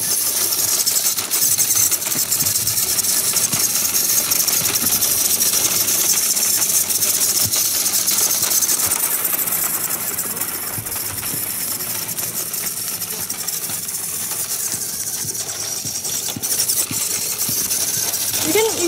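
An RC truck drives along a trail outdoors, its motor whining and buzzing continuously at close range with dense grinding and crunching noise throughout.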